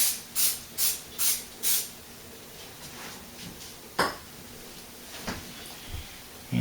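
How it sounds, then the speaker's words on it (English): Four quick hissing bursts of cooking spray on a rolling pin in a row up close, followed by scattered light kitchen clatter and a soft thump. "Spray it down just like I did the table."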